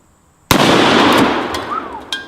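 A single deafening shot from a Smith & Wesson .460 XVR Magnum revolver fired at a bowling pin cracks out close by after brief quiet. A long reverberant roar follows, then a smaller sharp knock near the end.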